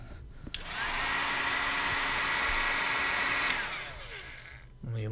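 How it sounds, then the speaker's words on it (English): A heat gun clicks on and blows a steady, loud rush of hot air for about three seconds while shrinking sleeving on a custom USB cable, then clicks off as the whoosh winds down. "I'll get my heat gun and"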